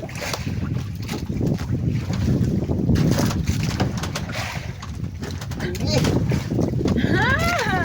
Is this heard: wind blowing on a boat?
yes